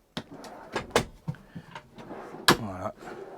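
Two drawers under the front of a camper van bed slide open with a series of knocks, bumps and scraping thuds, close and fairly loud, with a short spoken moment mixed in.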